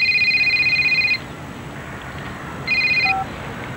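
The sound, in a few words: mobile phone ringing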